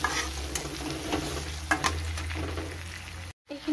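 Close, lively sizzle of chopped tomatoes frying in oil for an Assamese pork curry, with repeated spoon scrapes and stirs, briefly cut to silence near the end.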